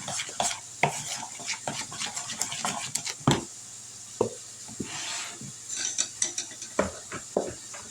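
A spoon scrapes and knocks around a bowl while stirring cornbread batter made with buttermilk, close, irregular clinks and scrapes with faint sizzling from hamburger meat cooking nearby.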